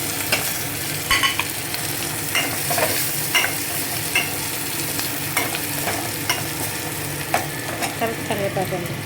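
Mustard seeds and cumin sizzle in hot oil in a tempering for a raw mango dal, a steady frying hiss with repeated spoon clinks and stirring scrapes close by and no talk.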